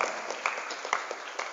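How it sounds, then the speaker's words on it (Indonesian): A seminar audience gives a brief round of applause for Ar-Rahman, heard as faint, distant scattered clapping that lasts only a moment. "Tepuk tangan buat Ar-Rahman hari ini ya"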